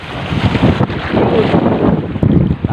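Strong wind buffets the microphone on a small fishing boat out on rough sea among big waves, a loud continuous roaring rush with a few sharp knocks, no voices.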